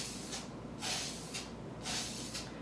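Rust-Oleum hammered paint sprayed from an aerosol can onto a lamp in a few separate hissing bursts of about half a second each, with short gaps between them, close and fairly loud, no voices.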